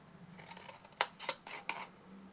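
Scissors cutting a paper flip top box template, faint soft snips close by with three sharper crisp cuts near the end.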